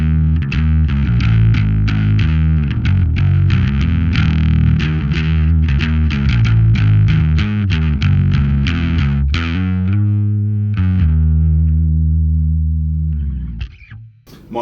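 A bass guitar plays through an Audile TOAD pedal in dark mode with the gain lowered slightly, giving thick distorted notes in a quick rhythmic riff, then a long held note that fades out.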